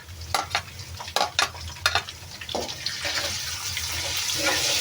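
Chopped ginger frying in a pan for aloo chicken rice, a few sharp stirring knocks at first, then a rising, steady sizzle close by.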